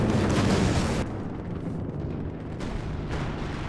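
Grenade blasts in the Company of Heroes 2 video game, a heavy explosive burst at the start followed by a lingering rumble and smaller booms.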